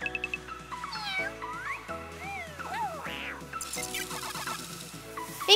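A cat meows amid bright, busy music with playful electronic tones, the calls rising and falling in short bursts near the listener, next to a toy robot in a miniature-gadget craft setting.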